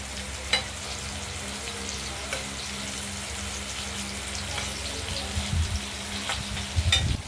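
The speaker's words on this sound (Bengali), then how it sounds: "আমরা পুর ভরে ভরে পটলগুলোকে এই ডিম আর পোস্ত কাঁচা লঙ্কা বাটার পুরগুলো ভরে ভাজছি।" Pointed gourds stuffed with a paste of fish roe, poppy seed and green chilli frying in a karahi, giving a steady close sizzle with occasional clinks and stirring scrapes near the end.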